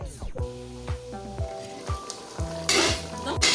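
Yam pottage cooks in a pot with a soft bubbling sizzle as a spoon stirs, giving low scraping knocks roughly every half second and a brief hissing rush near the end.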